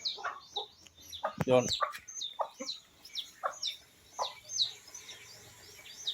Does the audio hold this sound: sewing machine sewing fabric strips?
no